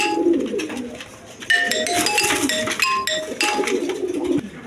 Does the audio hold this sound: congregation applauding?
no